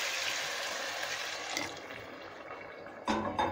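Two glasses of hot water poured into a pot of whole masoor dal, a steady broadband rushing pour that continues throughout, with a louder splashing surge near the end; no talking.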